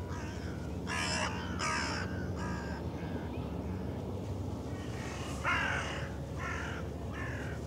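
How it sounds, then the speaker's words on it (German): Crows cawing near a harbour where large ships pass, several loud harsh calls in bursts, close by, with steady background noise between the calls. "Vogelalarm."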